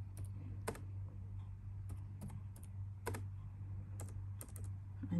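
Quiet computer keyboard typing, a scattered series of light clicks at an irregular pace, close but faint over a low steady hum.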